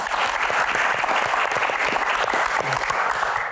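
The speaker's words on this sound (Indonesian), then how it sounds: "Tepuk tangan dulu buat Sharon." A studio audience at a Metro TV talk show applauds: dense, loud, continuous clapping from a packed room that holds steady throughout without fading.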